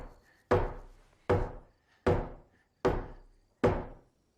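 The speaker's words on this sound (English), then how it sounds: "the four strangers come knocking at the door" Five firm knocks on a wooden cabin door, evenly spaced under a second apart, each a sharp hollow thud that fades quickly, loud and close with no talking.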